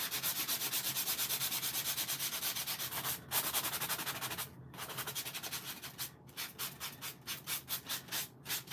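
Designer paper edge rubbed with a sanding tool while making a card, a quick rhythmic scratching that starts dense and steady, then breaks into separate strokes, soft and close with no speech.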